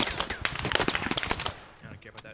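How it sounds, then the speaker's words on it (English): Gunfire from a tank engagement in the WWII shooter Post Scriptum fighting around brick buildings and a church, sounding as a fast burst of sharp cracks and booms for over a second, then fading, with voices shouting over it. "Tank shooting!"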